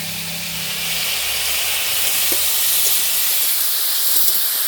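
Potatoes frying in oil, browning at the edges, make a steady, close, hissing sizzle that holds at an even level throughout, with a few faint pops and no talking.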